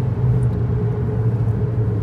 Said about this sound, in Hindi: आपको थोड़ी रोड नॉइज जरूर सुनाई देगी, रोड नॉइज आ रही है क्योंकि म्यूजिक वगैरह ऑफ है।